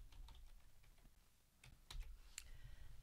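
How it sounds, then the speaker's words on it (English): Typing on a computer keyboard while composing an email, a quick close run of light key clicks with short pauses and a couple of sharper taps, no talk. "and type in some text"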